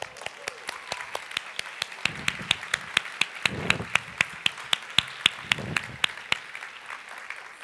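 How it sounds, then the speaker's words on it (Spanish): A church congregation claps together in a steady, even beat of sharp claps, about three per second, with a faint low murmur underneath. "Un aplauso al Señor."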